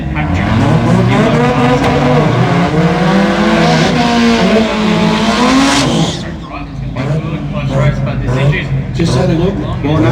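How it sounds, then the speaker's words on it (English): A drag racing car at the 2024 Garrett Brisbane Jamboree does a tyre burnout, a loud sustained roar with a rising engine pitch that cuts off after about six seconds, followed by lower rumbling and a commentator talking over it. "They weren't happy with Patrick's burnout, so they quickly pushed him back, and they're making him do it"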